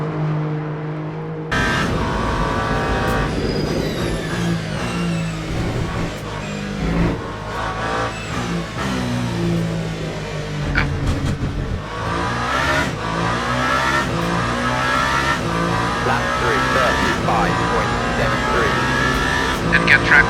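A race car from the Le Mans Ultimate racing game lapping Circuit de la Sarthe, its engine roaring and shifting through rising and falling revs, loud and continuous throughout, with a commentator's voice talking over it.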